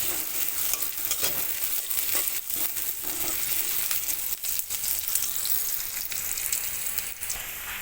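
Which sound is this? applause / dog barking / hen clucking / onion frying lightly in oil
onion frying lightly in oil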